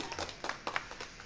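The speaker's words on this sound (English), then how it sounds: "Let's get that applause button one time." A short applause button sound effect, a quick scatter of light, close claps in an uneven rhythm, faint and brief.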